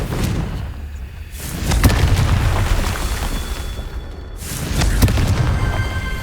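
Booming fiery blasts of the Confringo explosion spell in the video game Hogwarts Legacy, two loud heavy detonations a few seconds apart over a rumbling background.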